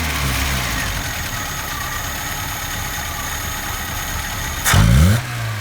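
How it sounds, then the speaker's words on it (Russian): A VAZ 21099 car engine idles steadily after an ignition adjustment, then gets one short, loud throttle blip near the end before settling back to idle. "вот я газую"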